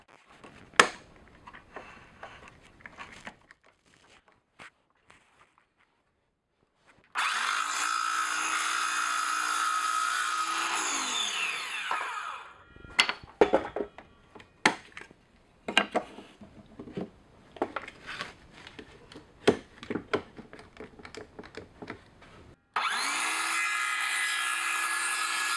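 Power tool cutting a wooden birdhouse front and back runs in two long steady whining bursts, broken by quiet stretches of scattered knocks and handling clatter close by.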